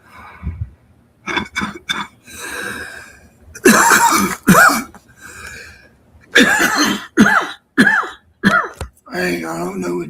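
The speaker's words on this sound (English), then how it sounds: "All of a sudden, come up on this coughing fit." Repeated harsh coughs and throat clearing in rapid bursts, close and loud, forming a sustained coughing fit.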